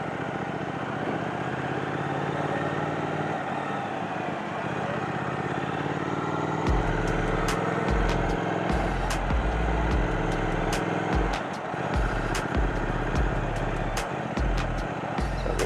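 Steady London city traffic hum around a Triumph motorcycle, with trucks and buses rumbling close by and the bike's engine pulsing in bursts as it filters through the queue to the front.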